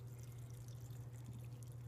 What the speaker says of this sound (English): And I'm just going to pour the menstruum over the berries